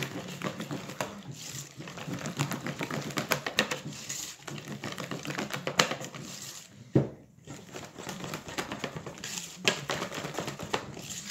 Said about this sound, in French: je racle bien les bords, bien jusqu'au fond également